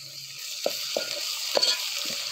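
Country chicken pieces sizzle in a hot pan while turmeric is stirred through, with a few distinct scraping strokes of a spoon against the pan over a steady frying hiss.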